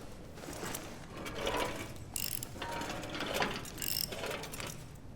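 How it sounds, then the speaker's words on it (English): A wrench ratchets and clanks in Amnesia: The Bunker, a run of close mechanical clicks and metallic grinding in uneven bursts, with no voice over it. "Gotta use my wrench to deal with this bullshit again"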